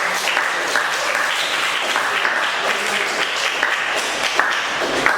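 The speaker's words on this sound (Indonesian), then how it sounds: "kasih tepuk tangan dulu." Students in a classroom clap together in a steady, dense round of applause that lasts throughout, fairly close and even in loudness with no pauses.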